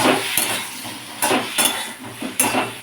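Red amaranth stalks and vegetables frying in a pan, a close, steady sizzle broken by several sharp scrapes and clanks of a spatula stirring against the metal.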